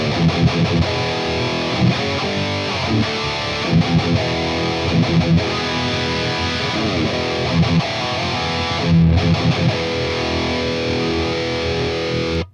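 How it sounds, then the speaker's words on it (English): An electric guitar plays loud, continuous overdriven riffs through a Tube Screamer overdrive pedal into an MT15 amp set with the gain all the way down and the volume all the way up, with no talking. "I actually set up an overdrive pedal here, the tube screamer, and I'm going to go ahead and fire up the MT15 right now."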